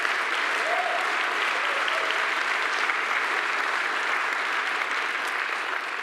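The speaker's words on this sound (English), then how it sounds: "Can we get a round of applause for the organizers for organizing such a great conference?" Steady, dense applause from a conference audience, sustained for several seconds at moderate distance with no voices over it.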